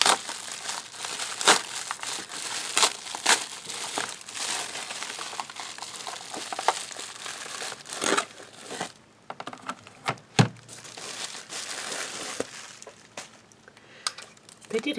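Protective plastic packaging crinkles and rustles as a UV light is unwrapped, a busy run of close crackles and snaps that thins into scattered sharp crinkles.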